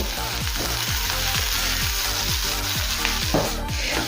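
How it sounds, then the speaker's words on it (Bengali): Coriander leaves being stirred into onions in a pan after the flame is turned off, a continuous loud sizzle and crackle with the spatula scraping in a regular back-and-forth rhythm. "এখন কিছুক্ষণ সময় নিয়ে ধনে পাতায় পেঁয়াজের সাথে নেড়ে চেড়ে মিশিয়ে নেব।"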